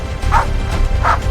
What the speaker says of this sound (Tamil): அப்போது நாய்கள் கூட்டமாக அதை துரத்த ஆரம்பித்தன.